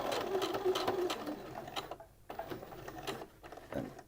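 A sewing machine stitches an apron strap in short, quiet bursts of rapid clicking, broken by pauses where the needle stops and the fabric is turned.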